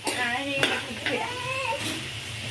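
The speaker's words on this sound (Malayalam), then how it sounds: "നമുക്ക് നല്ല രീതിയിൽ വഴറ്റി കൊടുക്കാം" Potatoes and tomatoes sautéed in a pan at home at night, with soft sizzling under clinks and scrapes of a stirring spoon against the pan, close by, with voices talking over it.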